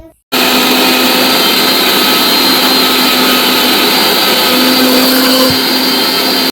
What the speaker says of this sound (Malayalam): ഈ ഉലുവയും ജീരകവും തേങ്ങയും കൂടി ചേർത്ത് അരപ്പ് അരച്ചെടുത്തു